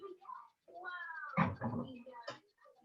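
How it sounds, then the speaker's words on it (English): A pet cat at home meows a few times in short, close calls, with a soft knock and some quiet household noise between them. "my cat"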